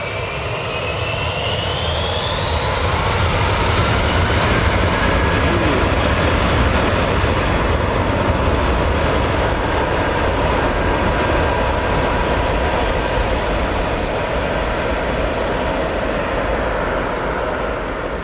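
A Ryanair airliner on runway 07 at Newcastle Airport, its jet engines roaring loud and steady throughout, with a rising whine early on as power builds.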